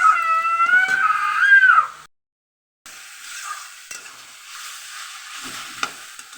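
Potatoes frying in a pan give a steady, fairly loud sizzle, following a brief wavering, cat-like tonal cry and a short gap of silence.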